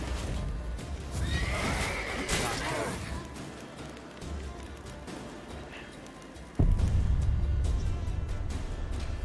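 A horse whinnies loudly near the start in the video game The Witcher 3, with hoof clatter and game sound effects, followed by a sudden louder rumble of movement.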